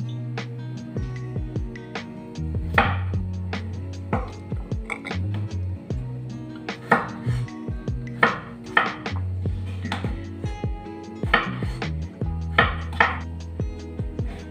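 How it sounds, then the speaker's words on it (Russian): A knife chops potatoes into cubes rhythmically on a cutting board, with quick clusters of crisp, close taps and short pauses, over a low steady hum. "Нарезаю весь картофель кубиком."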